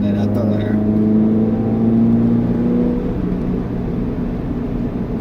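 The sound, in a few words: Toyota GR86 engine accelerating on throttle uphill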